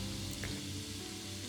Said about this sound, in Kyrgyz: Алгач пиязды кууруп алабыз.